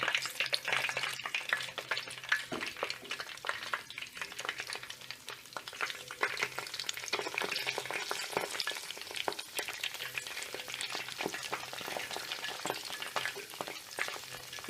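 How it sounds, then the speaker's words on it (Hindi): Gulab jamun fry slowly in ghee over low heat, giving a steady close sizzle and bubbling with occasional stirring scrapes throughout, with no voices. "इसी तरह से और भी गुलाब जामुन डालकर इस तरह से घी हिलाते हुए इनको धीमी आंच पर तलें।"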